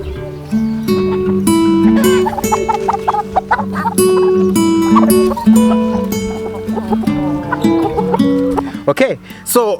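Chickens cluck in a busy, overlapping chorus near and loud, with repeated calls throughout and some voices in the background.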